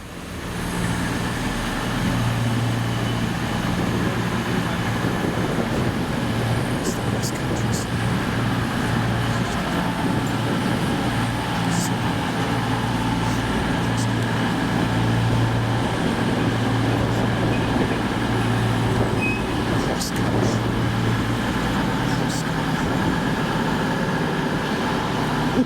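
A CrossCountry passenger train at Didcot rumbles past in a steady, loud wash of rail and engine noise lasting throughout, with faint higher squeals and clanks riding over the continuous roar.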